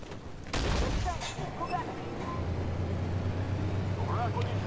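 A Palmaria self-propelled gun fires its cannon in the tank game Armored Warfare: one loud, close blast that hits suddenly and decays into a steady low engine rumble that continues to the end.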